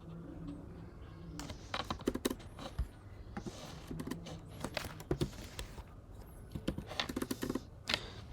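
Typing on a computer keyboard, with bursts of quick, close key clicks and pauses between runs, played alone with no talking.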